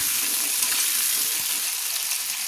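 Thin strips of potato frying in hot oil in a pan, a dense, steady sizzle that holds at an even level from start to finish with no pauses and no voices.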